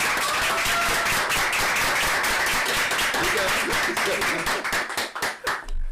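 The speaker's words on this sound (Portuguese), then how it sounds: "Palmas, por favor, aí." Audience applause welcoming a priest, Father Wilson Roberto, as a guest on a Catholic podcast, loud continuous clapping from a group that thins into a few scattered claps at the end.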